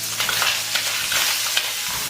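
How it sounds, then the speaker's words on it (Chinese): Squid and pork belly stir-fried in hot oil, with a loud, close, continuous sizzle broken by rhythmic scraping stir strokes and no voices. "接着把鱿鱼放进来翻炒。"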